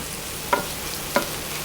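Onions cooking in a pan for Swiss mac and cheese, a low steady sizzle with two short scraping stirs.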